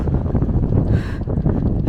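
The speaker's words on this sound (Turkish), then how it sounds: "Resmen şu an rüzgardan başka hiçbir ses yok." Strong desert wind gusts steadily across the microphone in open sand dunes, a continuous loud rumbling buffet with a brief hissing surge near the middle.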